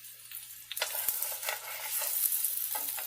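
Aloo tikki frying in a small amount of oil in a pan, a close, continuous sizzle that rises and spits after a brief quieter start, with soft scraping touches.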